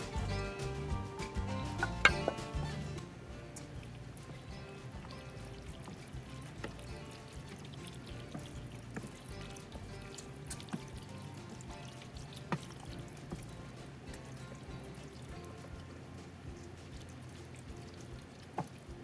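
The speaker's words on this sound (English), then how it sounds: "mix it together, and then pour that into the casserole dish" A macaroni and cheese mixture is poured from a large bowl into a casserole dish, giving a soft, wet, close pour that is heaviest at the start, then settles into faint dribbles and small clicks.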